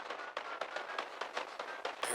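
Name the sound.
gunfire in video game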